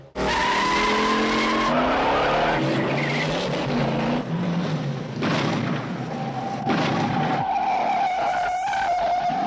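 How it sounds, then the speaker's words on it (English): Car chase through the steep streets of San Francisco, with tires squealing and skidding over roaring engines, loud and continuous, with booming impacts and shifting engine pitch throughout. "Car chase through San Francisco."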